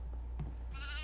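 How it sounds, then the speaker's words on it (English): A goat in the horror video game Devour lets out a short, high, wavering bleat near the end, over a low steady background hum. "Oh my god, a goat! A goat! I see a goat."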